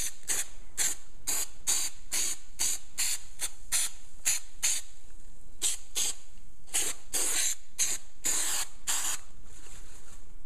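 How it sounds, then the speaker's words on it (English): Repeated short bursts of spray adhesive hiss from an aerosol can onto a car trunk lid, about a dozen quick pulses in steady rhythm, close and fairly loud. "We're going to spray the lid."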